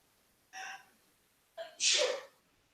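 Two quick sneezes from one person in a quiet room, a short breathy one followed a second later by a louder, sharper burst, close to the listener.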